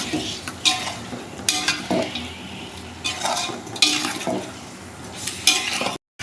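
Chicken biryani masala with salt stirred in a pot, with repeated scraping spoon strokes against the metal over a low simmering sizzle, close and moderately loud.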